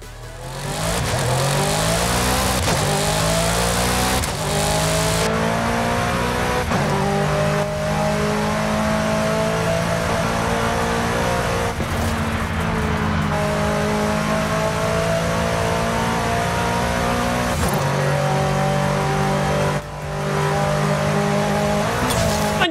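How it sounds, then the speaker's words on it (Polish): McLaren sports car with a 7-speed automatic gearbox, driven in Forza Horizon 5, revving hard and climbing through gears with repeated rising engine pitches and brief dips at shifts, loud and continuous throughout without talk. "Sprawdźmy sobie teraz, jak ten samochód brzmi i jak się nim jeździ"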